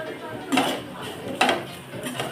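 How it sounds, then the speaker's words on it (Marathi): Beans and potato masala fry stirred in a pan with a metal spoon, three distinct scraping clinks against the pan, close and moderately loud. "पण चांगला मिक्स करायचा दोन मिनटं ठेवायचं आहे आपली फरसबी"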